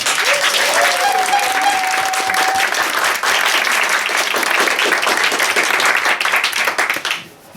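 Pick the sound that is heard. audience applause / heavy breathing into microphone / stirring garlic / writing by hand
audience applause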